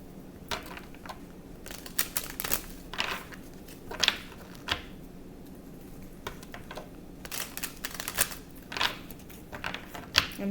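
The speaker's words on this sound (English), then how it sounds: "I'm going to shuffle." Tarot card shuffling, a run of quick papery riffles and soft slaps in bursts, close by and fairly quiet, with no talking.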